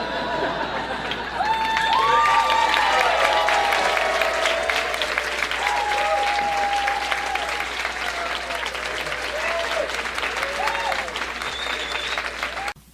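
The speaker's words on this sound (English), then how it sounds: "A smattering of applause." A stand-up comedy crowd in Seattle breaks into steady applause lasting most of the clip, with some cheering and a few scattered voices mixed in, then it cuts off sharply.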